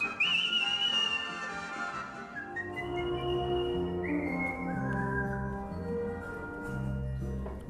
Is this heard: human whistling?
yes